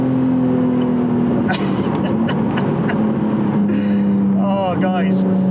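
A 450+ bhp Nissan R34 Skyline with a Tomei exhaust drones loudly and steadily from inside the cabin, holding a sustained engine note as it pulls through the gears, with people talking over it throughout.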